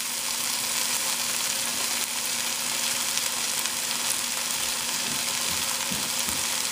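Chicken fries in a pan with onion and a splash of soy sauce, giving a continuous close sizzle with occasional stirring clicks and no talk.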